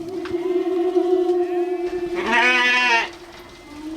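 Stage drama sound effect of a flock of goats bleating during a Malayalam school annual day play: one loud, drawn-out bleat rises over a steady droning tone, then fades.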